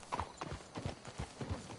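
Horse hooves clip-clopping in Red Dead Redemption, a steady repeated beat of hoofbeats close by, holding an even rhythm throughout with no other sounds on top.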